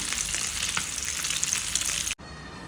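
Fish pieces crackle and hiss as they fry in hot oil for street-style fish semiya, a dense close sizzle that cuts off abruptly near the end.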